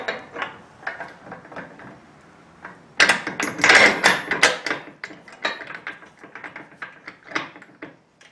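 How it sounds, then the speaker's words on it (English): Metal bolt and nut being tightened by hand while assembling an XMark 7604 adjustable weight bench, a series of close clicking, clanking and rattling bursts with a louder cluster of metallic knocks in the middle. "I'm just going to go ahead and tighten that one up."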